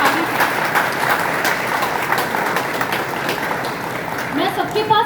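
Loud, dense applause from a campus audience honoring student street play performers at a zero waste cleanliness event, steady clapping throughout with a voice briefly emerging near the end.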